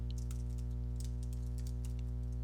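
Rapid typing on a computer keyboard while editing a formula in an Excel spreadsheet, soft scattered key clicks sitting over a steady electrical hum, with no talking.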